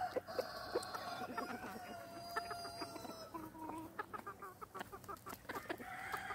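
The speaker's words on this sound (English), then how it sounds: "Chickens on the roof." Chickens cluck steadily on a homestead roof, with overlapping clucks and a rooster crowing among them, close and fairly loud, no talking.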